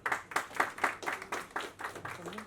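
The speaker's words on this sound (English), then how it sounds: "Big round of applause for her." About nine distinct sharp hand claps ring out in a fairly even rhythm at a celebrity magazine launch event in India, sounding like a small group clapping close by at low overall volume.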